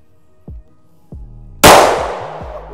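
Handgun shots at an outdoor shooting range, a couple of quieter pops and then one loud, sharp report whose echo trails off, with a further muffled pop after it. Nobody speaks.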